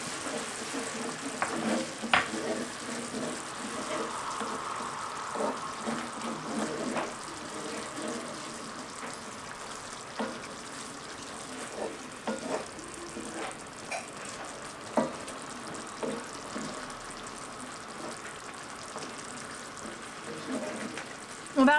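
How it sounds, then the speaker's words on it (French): A salmon dish with frozen dill is stirred in a pan, giving soft sizzling and scattered scraping clicks of the utensil, fairly faint and close, with a voice speaking at times over it. "On va mélanger un petit peu."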